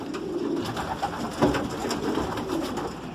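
Pigeons in a pigeon loft coo in soft, repeated throaty calls close by, several birds overlapping steadily with a light rustle beneath.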